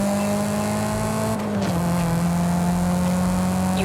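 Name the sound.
Mitsubishi EVO 9 driving in video game Forza Horizon 5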